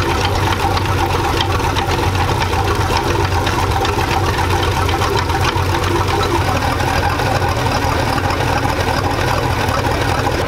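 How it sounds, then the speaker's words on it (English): Steady mechanical whirring and knocking from a 1999 Chaparral 1930 SS boat's idling engine and drivetrain with worn U-joints, a continuous dense rumble with a faint repetitive clatter running throughout. "judging by the sound from the back of the boat, I'm fairly confident it is the U-joints"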